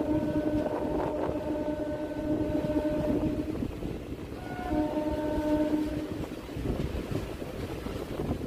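A Ranaghat-Krishnanagar local train runs through a village near Shantipur, its steady rumble carrying two long horn blasts, the second after a short pause.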